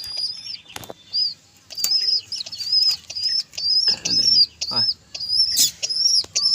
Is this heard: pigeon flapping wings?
yes